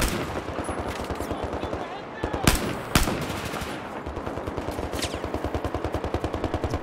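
Battlefield 4 gunfire: rapid machine-gun bursts run steadily through the stretch, with two louder sharp shots standing out midway, close and dense throughout.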